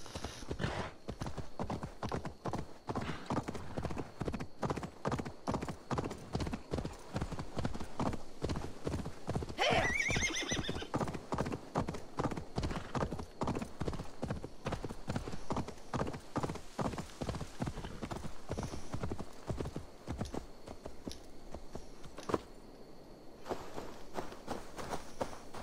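Steady rhythmic clip-clop of horse hooves at a trotting pace, continuing throughout, with a brief whinny partway through, in the video game Assassin's Creed Valhalla.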